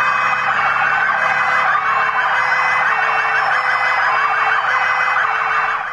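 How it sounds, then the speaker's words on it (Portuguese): Police vehicle sirens wail together in a military-police funeral tribute for a fallen soldier in Brazil, several loud, continuous overlapping tones sounding nearby without any talk. "Acionamento das sirenes das viaturas."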